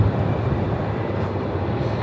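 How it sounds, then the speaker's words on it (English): An Air New Zealand Boeing 787 Dreamliner on the move at Melbourne Airport gives a steady, loud low engine rumble and roar that holds evenly throughout with no talk. "There's the Air New Zealand Dreamliner on the move."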